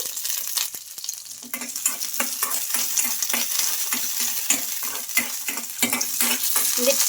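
Green chillies, ginger pieces and garlic cloves frying in hot oil, with a loud, steady sizzle and frequent quick spatula clinks against the pan, close up and with no one talking.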